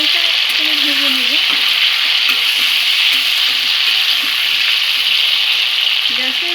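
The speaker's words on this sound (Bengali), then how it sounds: "ফুলকপিটা হালকা করে ভেজে নেব।" Cauliflower fries in a pan over a medium gas flame for prawn korma, with a loud, continuous sizzle up close and faint stirring movements underneath.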